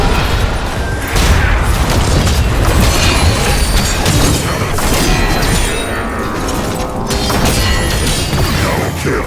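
In the video game Heroes of the Storm, a payload fires on the enemy core in a run of loud, heavy booms and crashing impacts that stay forceful throughout.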